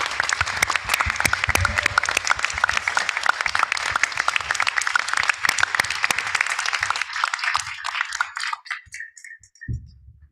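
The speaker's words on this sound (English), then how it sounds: "Let's give our candidates a big round of applause." A large audience at a candidate forum bursts into dense, sustained applause for the candidates, loud and continuous for several seconds before thinning out to scattered claps and a brief voice near the end.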